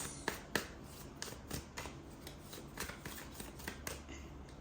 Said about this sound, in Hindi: let's shuffle now